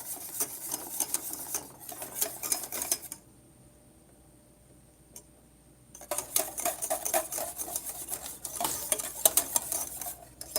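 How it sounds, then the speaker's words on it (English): A spoon scrapes and clatters steadily against a hot pot while homemade banana pudding is stirred, in close repeated bursts that stop for a few seconds and then resume. "I'm going to constantly stir"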